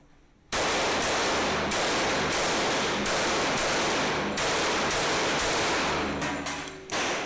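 Rapid pistol fire from a Para P14-45 .45 handgun with an upgraded rear sight and flat-topped slide at a shooting match, a fast string of loud, close sharp shots running for about seven seconds without speech.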